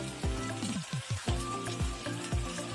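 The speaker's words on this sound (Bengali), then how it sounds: "ফ্রাই হতে দিন ফ্লেমটা লো টু মিডিয়াম থাকবে" Spices frying in a pan over a low-to-medium flame for Bengali aloo posto, a close, steady sizzle with crackling pops and no talking.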